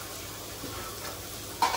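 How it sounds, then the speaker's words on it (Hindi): Soft sizzling and stirring of cauliflower being stir-fried in a pan, a steady low frying hiss with a slightly louder scrape near the end. "इसको थोड़ा भून लें।"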